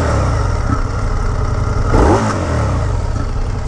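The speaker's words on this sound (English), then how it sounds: "Just wanna see how the stock pipe sounds." A 2025 Indian Scout 101 motorcycle on its stock exhaust rumbles steadily nearby, with one brief throttle blip in the middle before settling back to idle.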